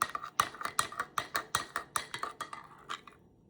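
A spoon clinks steadily against a glass while saffron milk is stirred and mixed, about fifteen bright, evenly spaced taps in a quick rhythm, close and clear, slowing slightly toward the end.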